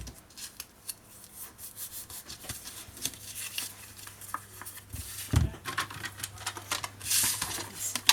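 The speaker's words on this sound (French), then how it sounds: "Ensuite, on va tout simplement couper le fond." A blade cuts the bottom of a scrapbooking paper box, producing faint scraping and rubbing strokes in short bursts with a few sharper knocks, close and quiet.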